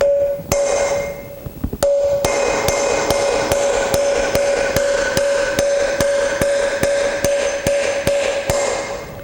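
Steady metallic hammer blows strike at an even rhythm, close and loud, with a sustained ringing tone humming underneath as a motorcycle front wheel bearing is driven in.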